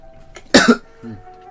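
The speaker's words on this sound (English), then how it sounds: "Suddenly started coughing." A single sharp, close cough bursts out, followed by a softer throat-clearing rasp, against a quiet indoor background with a faint steady hum.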